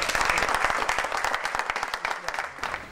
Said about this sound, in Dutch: Applaus voor Nico!